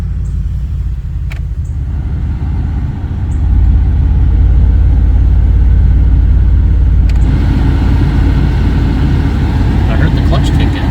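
A Dodge Dakota pickup that sat unused for over five years runs with a steady low engine rumble, growing heavier and louder after a few seconds, with people talking inside the cab over it.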